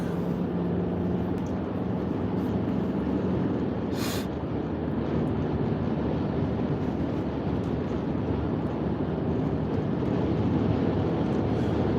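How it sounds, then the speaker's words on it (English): Steady, heavy low rumbling roar of strong wind buffeting a vehicle, continuous throughout with no voices. "It's also very, very windy."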